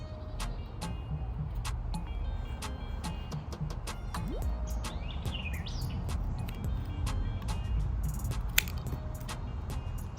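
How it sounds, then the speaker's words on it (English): Scissors snip through the damaged end of a garden hose outdoors, giving a run of sharp, repeated mechanical clicks and crunches over steady background hum, with faint birdsong. "I'm going to cut this end that's damaged. I'm going to cut this off the hose"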